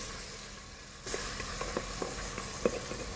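Salt and pepper pork chops sizzle in a pan, and a fuller burst of frying erupts as a spice mixture goes in. Several light scraping knocks follow as everything is tossed around, and no one speaks.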